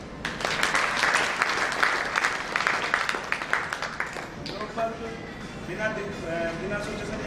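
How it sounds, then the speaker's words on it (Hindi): Audience clapping at a motivational talk rises quickly and continues for about four seconds, then fades as a voice begins speaking over the tail of it. "ताली।"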